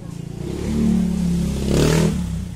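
A motorcycle passes on a dark street in a subdivision near a cemetery in Parañaque, its engine swelling in a broad rumble that peaks twice at close range before fading, with no talk over it.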